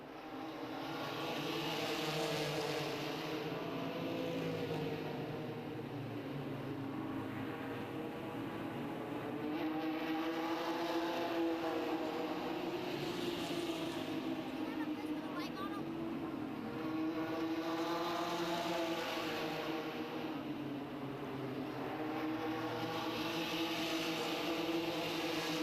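ARCA Series race trucks at Music City Motorplex in Nashville, Tennessee, roaring engines sweeping past in repeated waves on the front straightaway, with a commentator talking over them.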